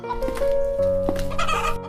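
Cartoon chickens cluck and cackle in a quick, busy run of calls, close and fairly loud, for about two seconds.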